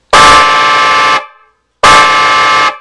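A Telolet klaxon eight-sound horn kit blasts with all horns on at once, two long, loud, brassy chord bursts about a second each separated by a short gap, very close and with no talking.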